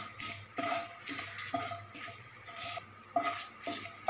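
Five whole seasoning spices, bay leaf and dried red chili among them, fry in hot oil for shukto. The sizzle is soft and steady, with faint stirring scrapes and small clinks coming back at intervals.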